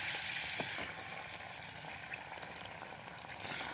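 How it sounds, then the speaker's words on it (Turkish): Flour roasts in melted fat for halva while being stirred constantly, producing a soft, steady frying hiss with faint scraping, quiet and close, with no voices. "Ve güzelce kavuruyorum. Durmadan karıştırıyorum."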